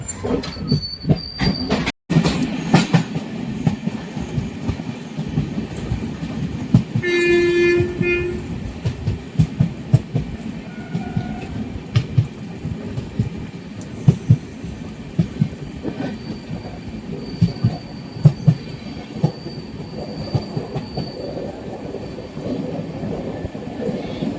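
A train runs along the rails, heard from inside a passenger carriage: a steady rumbling roar with scattered clicks and knocks of the wheels, and a brief horn blast partway through, with no talking.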